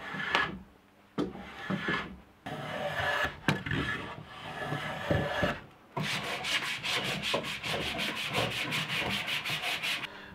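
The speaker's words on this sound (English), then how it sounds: "Alright, we're done sanding for now." Hand sanding on wood while making a bucksaw: rough rasping strokes in bursts at first, then a fast, even back-and-forth rhythm, close and clear.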